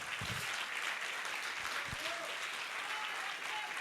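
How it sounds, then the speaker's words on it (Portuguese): A church congregation applauds in a continuous, even roar of clapping that fills the room, with a few low thumps early on and faint tonal traces drifting in beneath it. "nosso melhor aplauso dessa noite"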